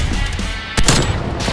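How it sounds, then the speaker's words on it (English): Sentry turret machine gun firing in Call of Duty: Black Ops Cold War, a loud close burst cutting in sharply mid-way over a dense wash of battle noise. "Enemy sentry turret detected in your AO. Yeah, they got a sentry gun."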